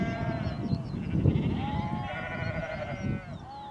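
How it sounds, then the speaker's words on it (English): Sheep bleat repeatedly in an open, windy pasture on the chalk downs between Berwick and Seaford. Several wavering calls rise over steady loud wind rumble, some near and some farther off. "Plenty of sheep for company."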